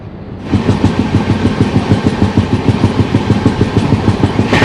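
Onboard a special passenger train rolling past Kazipet Town, a loud, steady rhythmic clatter of wheels over rail joints repeats evenly under a constant rumbling roar, heard close from inside the coach.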